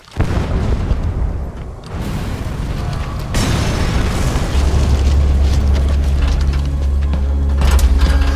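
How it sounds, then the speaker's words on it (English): A C4 charge detonates against a separator tank in Metal Gear Solid V: The Phantom Pain, a loud booming blast followed by sustained rumbling, crackling fire and a deep low drone, with no voices. "Be sure to time the explosion carefully."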